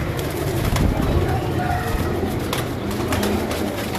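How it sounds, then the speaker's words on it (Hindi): A flock of highflyer pigeons kept for sale in Lahore coos steadily and loudly at close range, a dense continuous murmur of overlapping calls. "पचास कबूतर है मेरा भाई,"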